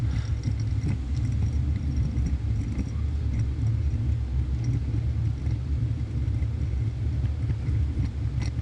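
A rally car's engine rumbles loud and low, steady throughout with no clear distinct gear changes, heard from inside or near the car during a stage run.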